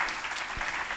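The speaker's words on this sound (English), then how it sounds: "So let's give him a round of applause" Brief burst of audience applause at a cancer center showcase plenary, dense steady clapping filling the whole second.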